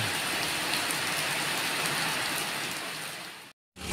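Continuous rainfall hissing evenly, fading slightly toward the end and breaking off briefly before resuming.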